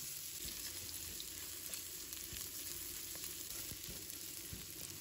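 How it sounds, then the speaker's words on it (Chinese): Ginger and garlic sizzle steadily in hot oil in a wok while a spatula scrapes and tosses them, the frying hiss continuous and fairly quiet with occasional stirring knocks. "再把姜蒜放入锅中，快速的把它翻炒一下"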